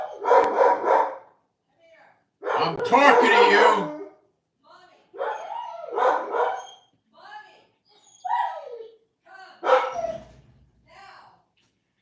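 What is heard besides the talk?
dogs barking at a cat in the yard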